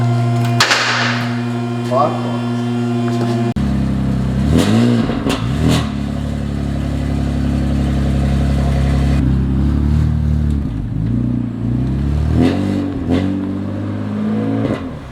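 A BMW F80 M3 engine with a raspy exhaust cranks and catches, then revs repeatedly with rising and falling roars, loud and close, idling between bursts.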